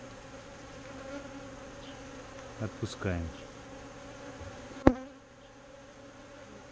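Honeybees buzz steadily close by during the introduction of a mated Carniolan or Buckfast queen in a candy cage at a hive, with a few louder passes and a sharp knock near the end, and a brief spoken word.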